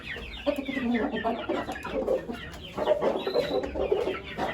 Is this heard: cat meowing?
no